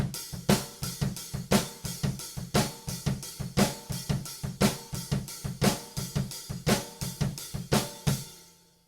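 A steady drum groove for a song, with hi-hat and a snare on beats 2 and 4, hits in an even repeating rhythm, close and alone.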